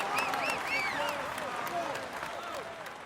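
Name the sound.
crowd applause for the winner in the video game Tour de France 2016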